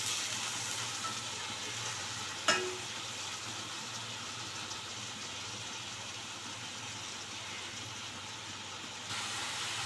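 Curry leaves, green chilies and onions frying in hot oil, a steady broad sizzle that holds evenly throughout, with one brief sharp crackle near the start and no talking.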